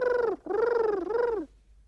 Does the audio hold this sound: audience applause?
no